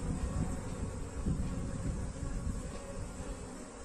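Honeybees swarming around an open hive box during a colony split, a continuous low, steady buzzing drone close by with no speech.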